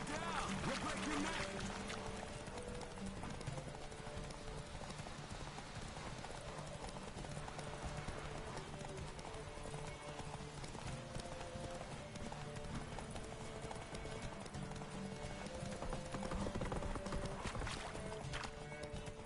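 Roach, the horse in the video game Witcher 3, gallops with a steady, rapid clip-clop of hooves that runs for the whole stretch, loud and close, with a brief whinny and outdoor game ambience.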